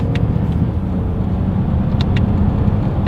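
A 2023 Lexus ES 350 sedan accelerates hard with its wheels spinning, giving a steady, loud engine and road roar with a few faint chirps on top.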